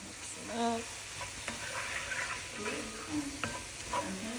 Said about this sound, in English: I'm going to add the vegetables back in, give it another mix